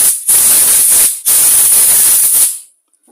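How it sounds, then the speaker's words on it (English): Two bursts of compressed air hiss onto the outside of a Walbro carburettor on a leaf blower during repair, loud and broadband, the second lasting longer, then a sudden cutoff to silence. "Hit it with some air."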